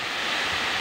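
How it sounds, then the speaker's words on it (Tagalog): Strong wind on Mount Makiling roars as a steady, loud broadband rush with no clear gusts or breaks, heard alone with no voices. "Tapos ang lakas ng hangin mga idol."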